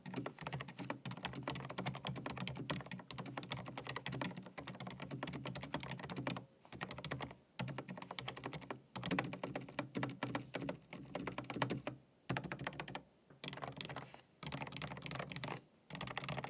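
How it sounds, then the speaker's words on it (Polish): Steady, rapid typing on an MSI Strike Pro Wireless mechanical keyboard, a soft, muted clatter of keystrokes with a few short pauses, heard up close and alone. "Powiedziałbym w sumie, że brzmi trochę jak gamingowa klawiatura membranowa."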